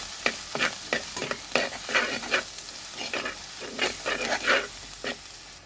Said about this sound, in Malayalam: നന്നായിട്ട് വഴറ്റിയെടുക്കാം.